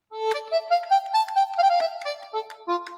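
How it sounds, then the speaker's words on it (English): Roland Aerophone digital wind synthesizer playing an accordion patch, a reedy sustained melody with stepped note changes and bright buzzing harmonics, close and clear with no talking. "the kind of accordion sound."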